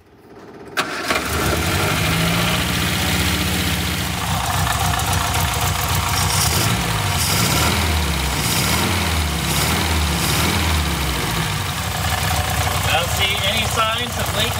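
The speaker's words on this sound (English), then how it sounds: "Next step will be to start the engine." A 1962 Austin Healey Sprite Mark II engine cranks and starts, then settles into a steady, loud idle with a low rhythmic rumble throughout.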